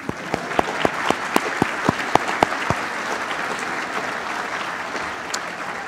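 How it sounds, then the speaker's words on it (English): Audience applause at a firefighter graduation ceremony in Monroe County: a burst of sharp claps over a steady hall murmur, thinning out after about three seconds into a diffuse room background. "You can clap."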